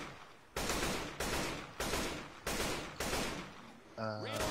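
Video game gunfire in a regular series of six loud, heavy blasts about half a second apart, each with a decaying tail, with a brief voice at the end.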